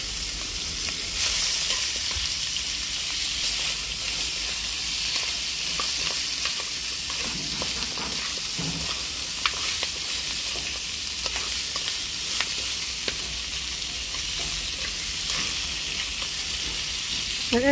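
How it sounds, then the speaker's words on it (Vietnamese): Meat being pan-fried before going into broth for a Vietnamese noodle soup, a steady close sizzle and crackle of hot oil with occasional stirring scrapes, continuous and fairly loud with no talk. "Thịt phải chiên sơ ra mới bỏ vô nước lèo cho nó thơm."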